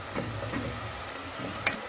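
A steady, soft sizzle of chopped onions sautéing in a pan, with a few light scraping stirs, close by.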